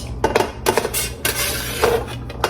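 Chopped carrot, celery, green pepper and small Vidalia onion scraped from a board into a crockpot, giving several clattering knocks and scrapes of utensil against cookware, close and fairly loud, with no talk.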